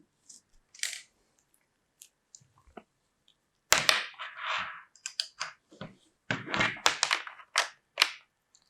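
A USB cable being connected between a Pinoo coding board and a computer produces a scatter of small plastic clicks, taps and handling rustles, sparse at first and then a busier cluster of close knocks.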